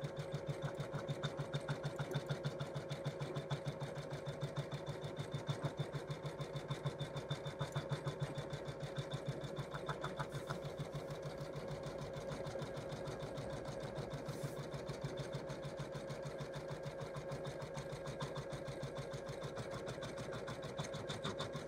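An embroidery machine stitches a Christmas stocking in the hoop, making a fast, steady mechanical chatter with a constant motor hum that runs unbroken from start to finish at moderate volume.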